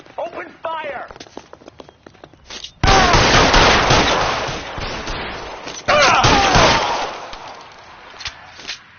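Loud bursts of gunfire from the L.A. Noire video game, sustained automatic volleys in two long stretches after scattered shots, with speech mixed in among the shooting.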